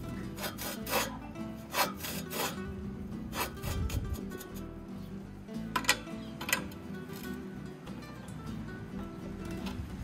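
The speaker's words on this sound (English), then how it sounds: "Now, I'm rotating the cylinder manually, and I'm feeling for the right amount of pressure against the bed knife" A McLane reel mower's cutting cylinder is turned slowly by hand against the bed knife, giving repeated close scraping and rubbing strokes with faint metallic ticks, steady and fairly quiet with no talking.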